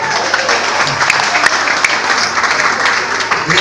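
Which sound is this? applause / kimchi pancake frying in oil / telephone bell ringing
applause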